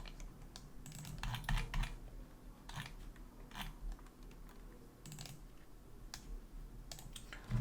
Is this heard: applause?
no